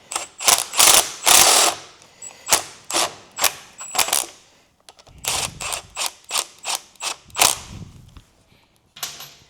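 A socket ratchet with a 17 mm socket runs down the front differential bearing cap bolts on an 80 Series Land Cruiser. Close, crisp bursts of rapid clicking come in irregular runs with short pauses between them.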